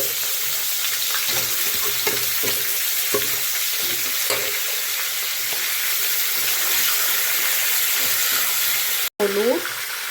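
Raw pumpkin pieces go into hot oil tempered with cumin, dried red chili and mustard seeds, giving a steady close sizzle with scraping stirring strokes, and a short voice near the end.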